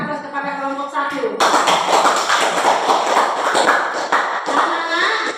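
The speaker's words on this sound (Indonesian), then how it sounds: "Berikan aplaus kepada kelompok 1." A classroom of children applauds a group after their discussion, a burst of dense clapping following a teacher's voice, heard close in the room with speech before and after.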